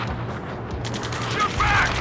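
Gunfire during a ground battle in Ace Combat 7, rapid bursts of shots and a sharp burst near the end over a dense rumbling backdrop, with radio-style voices shouting throughout.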